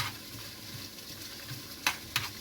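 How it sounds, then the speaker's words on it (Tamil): Poppy seeds and fennel splutter faintly in hot oil, a quiet continuous crackle topped by two brief sharp pops toward the end. "லைட்டாக அந்த கசகசாவும் வீரகமும் பொரியும் போது"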